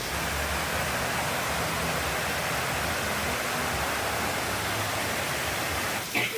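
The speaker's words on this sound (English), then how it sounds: "Oh, now the rain's coming." Steady rain pours down continuously outdoors on an Indonesian island, a dense even hiss filling the whole stretch without pause, with a faint thump near the end.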